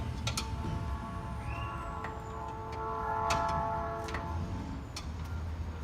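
A non-ratcheting wrench works a tow hook bolt loose on an NA Miata, giving sparse, sharp metallic clicks and taps close by over a steady low background hum.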